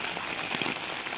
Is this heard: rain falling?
yes